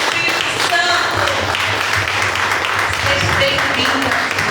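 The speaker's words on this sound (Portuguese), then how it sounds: "Você pode aplaudir ao Senhor?" A church congregation in Los Angeles applauding the Lord during a worship service: a continuous wash of crowd clapping throughout, with a voice speaking over it.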